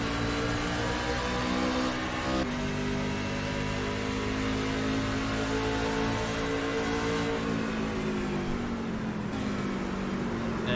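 A racing truck's engine drones steadily at full speed from inside the cockpit at Phoenix, loud and constant with slight pitch shifts through gear and throttle changes, and no talking over it.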